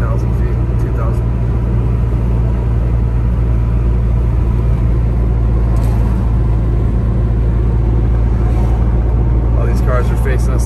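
Car descending a snowy mountain highway, Hwy 18 from Big Bear toward Redlands, with a steady loud low road and engine rumble throughout and a voice talking over it.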